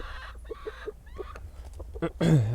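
A rooster's throaty clucks and short calls, close by in a backyard homestead, with a louder burst of clucking near the end under some brief talking.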